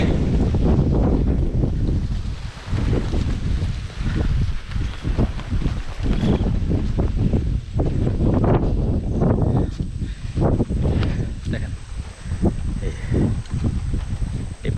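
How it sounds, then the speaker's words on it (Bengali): Strong wind buffets the microphone outdoors near large hillside jhum cultivation fields, a loud continuous roar with gusty surges throughout, and speech may be faintly present beneath it. "কি বাতাস"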